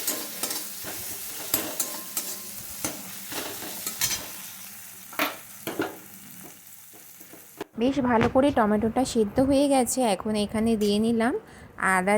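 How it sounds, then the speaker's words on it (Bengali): Tomatoes stirred and fried in a pan for a Bengali fish curry masala, with sharp spatula scrapes and clicks over a sizzle, then a person talks loudly over the cooking in the second half. "টমেটো দিয়ে একটু নাড়াচাড়া করে নিচ্ছি"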